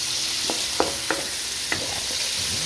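Garlic and onion sauté in a hot pan with a steady close sizzle, broken by four or five sharp spatula stirs and scrapes at an uneven pace; no one speaks.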